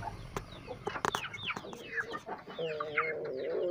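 Chickens in a simple farm coop cluck and chatter close by, with several overlapping calls and a sharp flutter or knock near the start. A longer drawn-out squawk comes toward the end.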